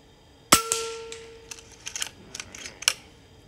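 A JTS Airacuda air rifle fires a single sharp shot at a downrange target, followed by a ringing metallic tone and a few faint clicks of handling, with no talking.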